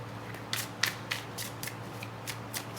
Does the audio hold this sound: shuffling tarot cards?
yes